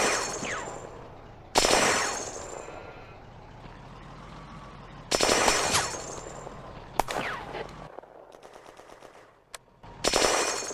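Machine gun fire in a WWII tactical video game battle set at a bridgehead at Remilly in May 1940, with a German machine gun firing on withdrawing infantry. Loud sharp bursts break out several times over a low rumbling background, then drop off to quieter stretches.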